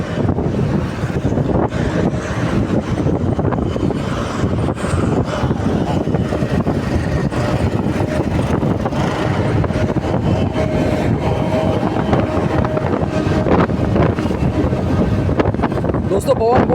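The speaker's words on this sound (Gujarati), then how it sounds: "પવન બહુ ઝડપથી પવન આવે છે ભાઈ" Strong wind buffets a moving car, giving a heavy, continuous roar and rumble that fills the whole stretch, with someone talking intermittently over it.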